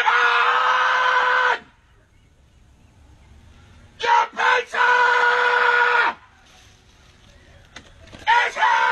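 A voice lets out long, loud screams at a door in separate bursts, with quiet gaps between them.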